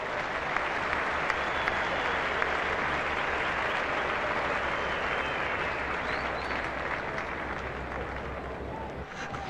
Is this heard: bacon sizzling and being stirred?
no